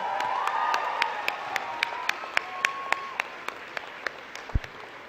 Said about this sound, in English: Give yourself a round of applause once more.